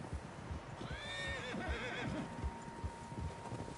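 A horse whinnies loudly and drawn-out in Red Dead Redemption 2, with muffled hoof clops and soft thuds around it, no talking.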